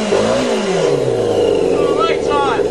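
The motorcycle engine of a dune buggy, still cold, revs loudly and close, its pitch swelling and falling, while someone talks over the engine noise.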